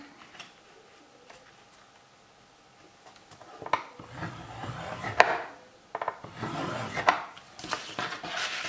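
Paper is folded and creased for a scrapbook envelope, giving soft rubbing and scraping strokes with a few sharp clicks, close and fairly quiet, starting after a near-silent pause.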